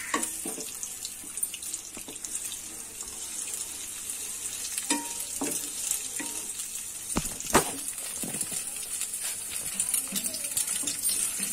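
Eggs frying in a pan for mixed vegetable noodles, a steady bright hiss and sizzle with scattered scraping clicks from stirring, close and continuous throughout.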